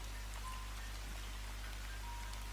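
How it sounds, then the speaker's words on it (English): Heavy rain falling at night in Spain during the winter rainy season, a dense, steady hiss of drops on surfaces with a low constant hum beneath, no voices. "it's raining heavily"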